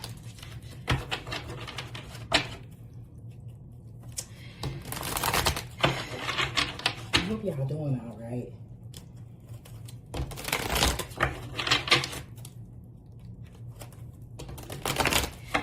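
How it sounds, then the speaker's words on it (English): A brand new tarot card deck being shuffled indoors, several bursts of rapid riffling and card flutter separated by pauses, close and loud, with a brief spoken remark between shuffles. "Let me shuffle this deck like I know it's a brand new deck."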